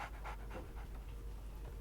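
A small dog in the Sherlock Holmes: The Awakened video game pants softly in quick, rhythmic breaths, faint and steady throughout.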